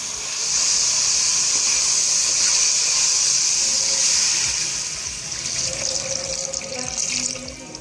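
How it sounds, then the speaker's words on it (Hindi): Water pours steadily into a pot of browned, spiced chicken for Arabian rice, a loud close rushing splash that eases and thins toward the end, with no voices. "अब मैं इसमें पानी ऐड करूँगी।"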